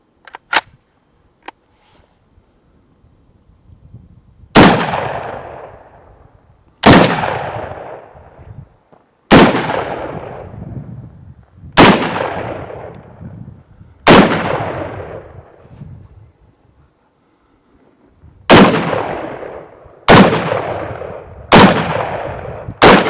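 A Kel-Tec SU-16 rifle fires Lake City rounds in a reliability test: about ten loud, sharp single shots, each ringing briefly, spaced unevenly with one longer pause, with nothing else heard.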